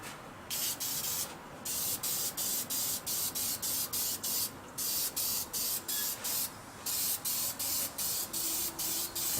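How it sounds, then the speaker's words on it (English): Bursts of aerosol spray paint hiss onto masked motorcycle engine parts, a Yamaha XS650 cylinder head and rocker box, in short, regular pulses with brief pauses between each press; close and steady, no voices. "All ready for a bit of spraying."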